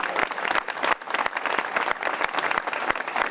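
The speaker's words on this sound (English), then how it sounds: "So stand up and give him a great round of applause if you could." Crowd applauds at Governor Terry McAuliffe's event at Natural Bridge, a lively burst of many hands clapping in uneven surging waves across about three seconds.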